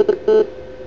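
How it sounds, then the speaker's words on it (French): A mobile phone gives a short notification of two quick tonal beeps and then a slightly longer one, loud and close, all within about half a second, with nothing else heard. "C'était mon téléphone."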